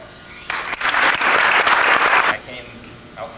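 A crowd gives Corey and Kara a big round of applause, a burst of clapping that swells, holds for about two seconds, then fades to quiet room noise.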